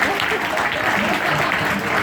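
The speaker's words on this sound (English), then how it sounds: "one more round of applause for Dan" Dense, continuous applause from a large audience at a London online-business event, a steady wash of many hands with faint crowd murmur beneath.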